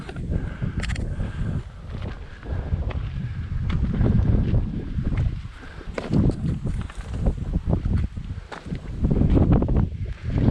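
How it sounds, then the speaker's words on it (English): Gusty wind buffets the microphone throughout near the peak of Tóti Hill, Hungary, a loud low roar that swells and eases in waves, with no one speaking. "It's quite windy once again,"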